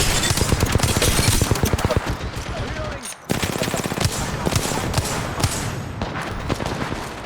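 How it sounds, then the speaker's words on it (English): Apex Legends gunfire in dense, loud automatic bursts with layered shots, a brief lull near the middle, and a voice heard faintly amid the shooting. "Taking fire."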